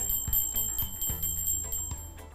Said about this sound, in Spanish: Podemos empezar con un sonido agudo como el de la campana.